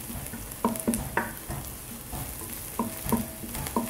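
Garlic and onions sauté in a pan with a constant crackling sizzle, punctuated by a few light utensil taps and stirring clinks.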